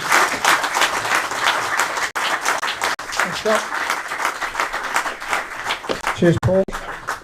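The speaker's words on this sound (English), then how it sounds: "Can I have a nice round of applause for these two chaps?" An audience at an AGM at the Armfield Club in Blackpool gives a loud, sustained round of applause, dense clapping filling the room while a couple of voices speak briefly over it near the end.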